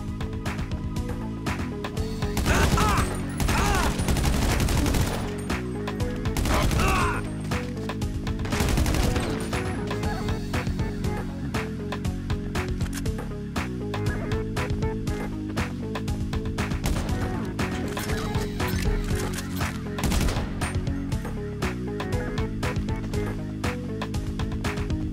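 Gunfire in the video game GTA Online during The Contract DLC, repeated loud bursts of shots and impacts spread through a long stretch, layered over a steady musical background and with occasional voices.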